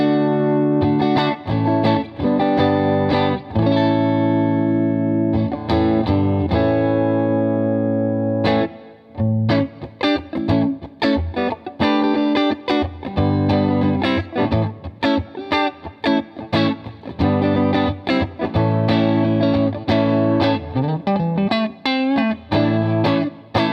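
A clean electric guitar on the neck pickup, a Fender Telecaster, rings out sustained chords, then moves into quicker picked notes and strums, played close and alone.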